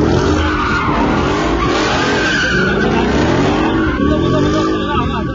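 A modified Mustang drifts under heavy throttle, its engine roaring hard while the tires squeal and skid almost without a break. The sound is loud and close, with a voice faintly underneath.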